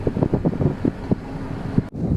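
Gusty wind buffets the microphone in rough, uneven bursts, loud and close, with a brief drop near the end.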